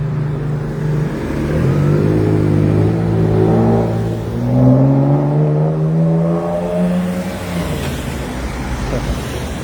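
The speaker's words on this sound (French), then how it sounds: "Vous entendez le moteur? On va le voir le démarrer." A car engine in a Swiss–French border commuting setting starts and revs, its low steady drone rising and falling in pitch through several rev swells, loud and close throughout with no talk.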